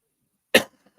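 A single sharp cough bursts out close by after a moment of silence, followed by faint throat noises.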